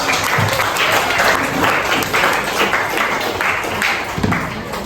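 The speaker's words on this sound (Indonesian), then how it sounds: "Tepuk tangan dulu." Loud, continuous applause fills the room from a school audience at a student event, with many hands clapping together unevenly and a small rise near the end.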